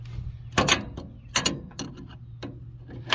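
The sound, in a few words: wrench turning a pressure washer hose reel swivel counterclockwise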